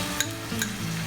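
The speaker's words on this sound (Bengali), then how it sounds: "এখন দেবো আমি পেঁয়াজ বাটা" Onion paste frying in hot oil for hilsa fish bhuna, a dense close sizzle with two brief metallic clinks of a utensil over roughly a second.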